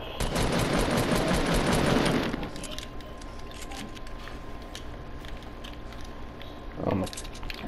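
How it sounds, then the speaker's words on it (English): Rapid automatic gunfire crackles loudly in a video game for about two seconds, then drops to scattered distant shots and quieter game sounds, with one more brief burst near the end. "why is everybody shooting at us?"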